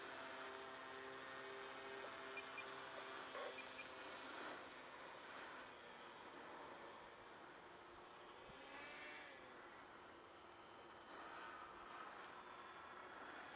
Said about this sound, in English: You could hear those dual props going.